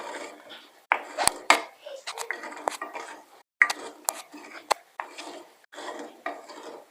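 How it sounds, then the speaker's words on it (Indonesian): Sweet bubur sumsum porridge stirred in a pot over the flame, giving soft scraping and scattered metallic clinks of a utensil against the pot, close and fairly quiet, with several sharper knocks. "aduk biar rata"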